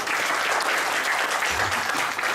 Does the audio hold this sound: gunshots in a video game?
no